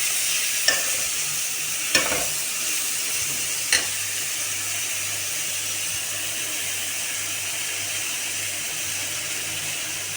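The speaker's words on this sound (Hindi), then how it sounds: "थोड़ा सा हिलाते रहें ताकि मसाला मिक्स होता चला जाए" Eggplant cooks in masala in a frying pan, a steady bright sizzle broken by three sharp scrapes of a spoon stirring early on, then continuous close frying without talk.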